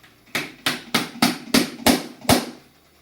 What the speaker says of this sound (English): that's my little baby hammer. It's not very big. It's very light.